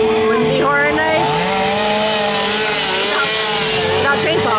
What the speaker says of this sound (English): Without chainsaws.